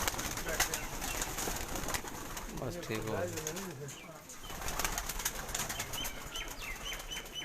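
Migratory pigeons at a rural farm compound in Gujrat flap their wings and coo in brief bursts, with rustling wing beats scattered across the scene while someone talks over them nearby.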